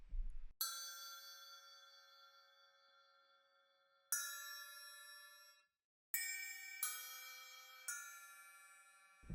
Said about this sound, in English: Cup chimes.